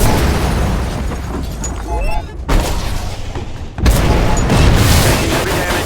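Missile blasts and bursts of gunfire boom through a combat flight in the video game Swordfish, with a voice calling out warnings over the dense, loud explosions.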